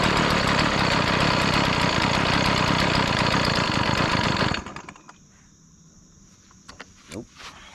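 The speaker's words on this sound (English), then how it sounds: "we got it to throttle fully, but now the idle's a little low." A cheap second-hand chainsaw engine runs loud and close with a rapid, rattling two-stroke idle for about four and a half seconds, then cuts out, leaving quiet with a few faint clicks and handling noises.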